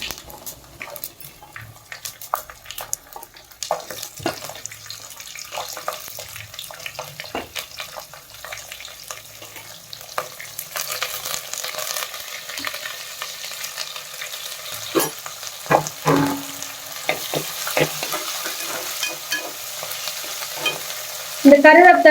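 Curry leaves and garlic sizzle in a pan for rice bisibelebath, with steady frying crackle and intermittent scraping stirs, closer and busier toward the end, with no talk.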